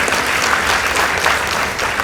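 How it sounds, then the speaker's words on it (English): Brief, loud and sustained crowd applause for the winning team at a high school debate, many hands clapping at once in a dense, even roar. "Let's give them a round of applause."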